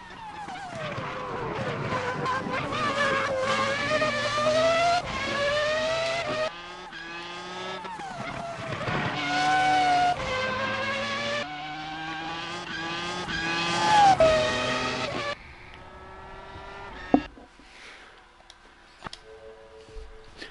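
Race car engine in the sim racing game Assetto Corsa, a brash, loud, high-revving tone with repeated gear shifts, rising and falling pitch across several runs, then fading to quieter mechanical ticks and a sharp knock near the end.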